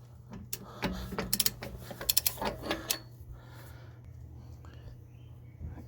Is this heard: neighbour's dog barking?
no